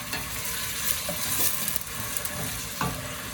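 Vegetable oil sizzles with a steady crackle in a pan, with a few soft clinks and scrapes of stirring close by.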